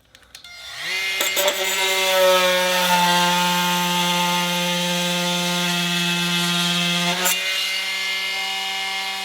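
A cast-cutting style oscillating saw whines loudly and steadily with a strong harmonic drone, starting up and cutting underneath material during a restoration of a neglected STI, then briefly cutting out near the end.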